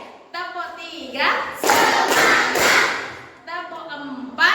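A classroom group gives a rhythmic encouragement clap, a few loud, evenly spaced bursts of many hands in the middle, with a voice talking before and after.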